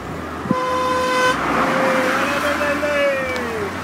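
A French car passes close by on a road and sounds its horn in a couple of sustained honks, the first brief and the second long and bending in pitch, over steady traffic rumble.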